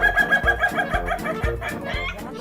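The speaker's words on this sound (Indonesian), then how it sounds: "Buat si ayam, ini adalah kokokan normal untuk bersaing dengan sesama jantan." An ayam ketawa rooster crows close by in a rapid string of clucking, pulsing notes that rise and fall like chuckling laughter, loud and continuous with no talk over it.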